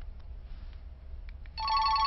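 A telephone begins ringing near the end, a bright electronic warble that starts abruptly and holds steady and loud, following a quieter stretch of faint background noise.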